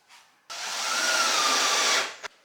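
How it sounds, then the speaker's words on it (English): Power driver sinking a screw into wood on a DIY solar air heater build, one steady whirring burst of about a second and a half, close and loud, ending in a short click, with no voices. "screw it in from the ends. Just barely sink them below the surface of the wood"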